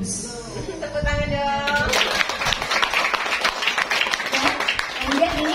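A crowd bursts into applause at a beauty product launch event, steady clapping mixed with some chuckles and voices, loud and close after a brief lead-in.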